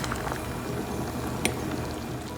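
A pot of moong dal masala khichadi bubbles steadily as it boils, with close, continuous wet popping and a brief louder splash, and no talk.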